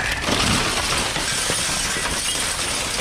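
Broken glass shattering and grinding inside a dumpster, a loud harsh crunching and tinkling clatter that continues throughout, close up with no speech.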